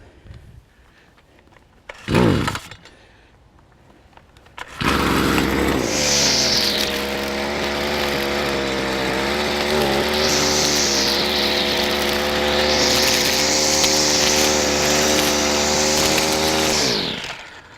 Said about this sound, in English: I spent 10 minutes trying to get this weed whacker going.